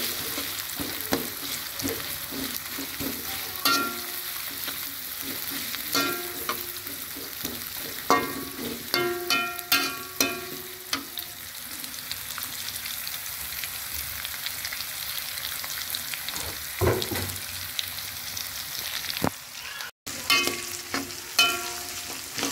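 Chopped vegetables sizzle in a hot pan while being stir-fried until wilted, a steady close frying hiss broken by intermittent scraping and clinking of the utensil against the pan.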